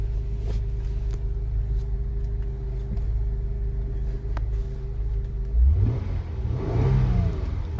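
A 2007 Honda Accord V6 idles with a steady, close, low hum, then is revved twice in quick swells near the end, with no talking.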